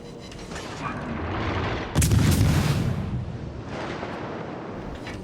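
Warship main-battery salvo in the naval combat game World of Warships: Legends, firing on the destroyer leader Minsk: a single heavy booming blast that rolls out into a rumbling tail, over a steady background din.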